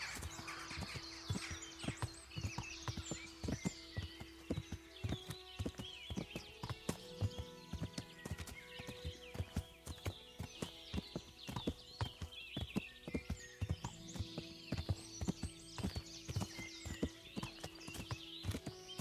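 Horse hooves clip-clop steadily while riding in Kingdom Come: Deliverance, a close, continuous rhythmic trot with an occasional whinny over quiet outdoor ambience.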